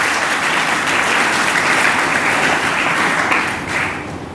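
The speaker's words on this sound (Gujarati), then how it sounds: "એટલે એ લોકો માટે એક તાળીઓ જોઈએ આપણે." Audience at a notebook distribution event breaking into loud, dense applause, a steady wash of clapping that holds strong and then tapers slightly near the end.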